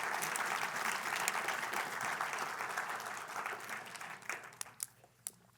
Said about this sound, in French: on peut applaudir le Seigneur